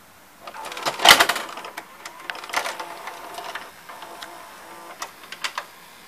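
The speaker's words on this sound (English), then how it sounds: "now let's insert the tape" VHS tape inserted into a Sony SLV-760HF VCR, a sharp clunk of the loading mechanism followed by softer clicks and whirring, close up.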